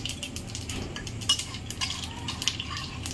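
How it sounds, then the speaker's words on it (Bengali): Whole spices, dried red chillies and bay leaves are stirred in a frying pan of hot oil, with a utensil scraping and clinking against the metal over a faint sizzle, close and fairly quiet. "ভালো করে একটু নাড়িয়ে নেবো বন্ধুরা।"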